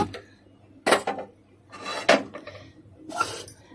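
A pressure cooker being picked up and set on a lit stove, giving a few short metallic clanks and scraping rubs at irregular intervals, close and fairly quiet, with no talking.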